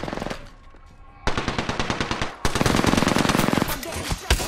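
Rapid automatic gunfire from the Apex Legends video game crackles in dense bursts, a short volley first, then two longer sustained streams of close, loud shots with a brief pause between.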